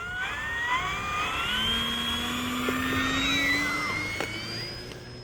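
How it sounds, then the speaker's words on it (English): An E-flite Focke-Wulf Fw 190A 1.5 m electric RC warbird at full throttle for its maiden-flight takeoff, giving a steady, rising motor-and-propeller whine that stays loud and continuous with a faint Doppler sweep as it passes. "So full throttle into that takeoff"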